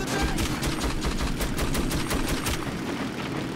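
Sustained automatic gunfire in the video game Metro 2033, dense rapid shots continuing steadily for several seconds at close range, loud and unbroken, with no talk.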